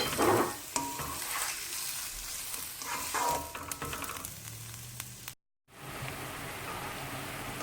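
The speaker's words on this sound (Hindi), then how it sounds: "प्याज डाल देंगे इसके अंदर, अच्छा सा फ्राई कर लेंगे।" Onions fry in a pan for chicken biryani, a loud, dense sizzle with occasional stirring scrapes, cut by a brief silence before resuming.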